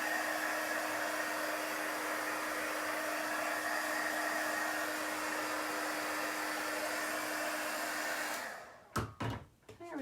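A hair dryer blows steadily on a chalk-painted door tag for several seconds, a close, continuous whirring hiss, then cuts off near the end with a few handling knocks.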